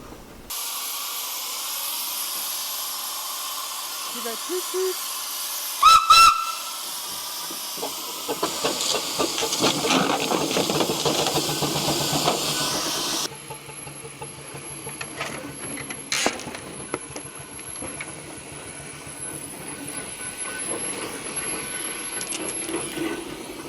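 A steady, broad hiss of escaping steam from a 100-year-old steamroller runs throughout, with a brief metallic clink partway and a shift in tone midway, no voices.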